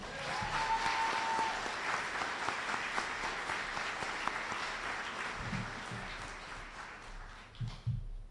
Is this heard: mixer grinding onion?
no